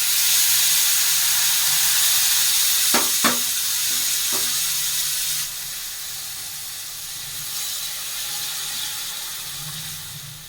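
Boiling water poured into a hot pan hisses and sizzles loudly and steadily throughout, with a few clinks of utensils; the hiss eases slightly partway through.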